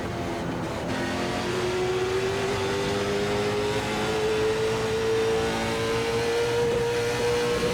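Late model stock race car engine in the iRacing video game on the final lap at Concord Speedway, a steady sustained drone with a slowly rising pitch, loud and continuous throughout with no talking.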